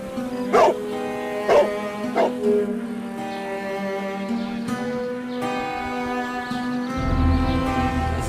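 A dog barks in the video game Sherlock Holmes: The Devil's Daughter. Three sharp barks come in quick succession over a sustained musical drone, followed by calmer ambience.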